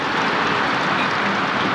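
Heavy rain pours down steadily during flooding, a dense, loud, unbroken hiss filling the whole short stretch with no pauses.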